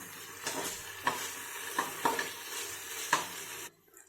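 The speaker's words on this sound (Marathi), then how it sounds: "अर्धा चमचा अद्रक लसूणची पेस्ट टाकायची आहे कांदा आपल्याला परतून घ्यायचा आहे" Onion sautéing with ginger-garlic paste in a pan, a steady close sizzle broken by several distinct spoon scrapes and taps against the metal, then the sound cuts off abruptly, no speech.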